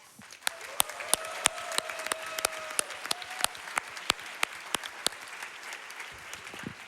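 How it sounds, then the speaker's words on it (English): An audience at a speedrunning charity event applauds steadily, with sharp individual claps standing out over a dense wash of clapping. "let's give them a round of applause"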